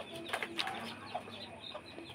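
A black chicken gives a few soft, scattered clucks, faint and close, in an otherwise quiet setting.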